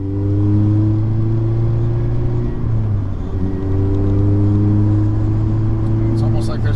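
A supercharged Mazda Miata engine drones close by with a steady low hum that dips briefly midway and then builds again as the car accelerates.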